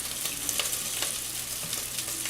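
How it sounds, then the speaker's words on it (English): Rice and vermicelli pasta frying in a pan on the stove, a steady close crackling sizzle with a few soft scraping stirs, no voices. "we are going to fry our rice with the pasta"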